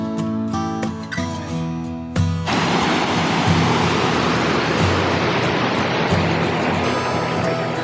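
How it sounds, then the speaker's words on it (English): A waterfall in New England roars loudly as a dense, unbroken wash of rushing water. It cuts in after a couple of seconds of quieter tonal sound and then stays constant. "waterfalls are quite loud"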